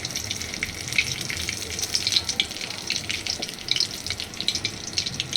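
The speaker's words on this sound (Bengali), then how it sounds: "এবার এর মধ্যে দিয়ে দিলাম এই সাদা জিরেটা। ফোড়নটা যে হয়ে যাবে" White cumin seeds hitting hot oil for tempering in a Bengali fish roe dish, a steady, close hiss and crackle of sizzling that holds for a few seconds.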